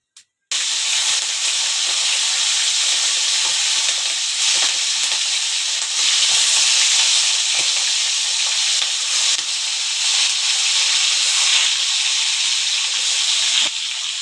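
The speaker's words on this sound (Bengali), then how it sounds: "তার জন্য আমি মাছগুলোকে ভেজে নেব।" Medium-sized prawns frying in hot oil in a pan for a Bengali malai curry, a loud, constant, close sizzle that starts suddenly and carries on alone.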